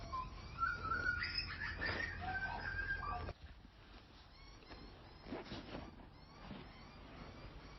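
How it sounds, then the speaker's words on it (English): Butcher birds call faintly in the distance, a few scattered chirps and warbling notes against a quiet outdoor background. "You might be able to hear the little butcher birds calling in the background"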